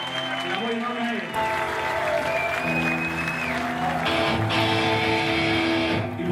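Applause and cheering from a live concert audience at a full set, a steady wash of clapping under lingering band tones and voices.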